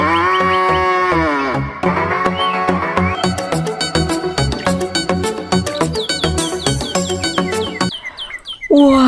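A cow moos in a playful kids' animal-cleaning setting, a long, loud, close low call that slides down in pitch, followed by a rapid series of short, bright chirps and toy-like squeaks to the end.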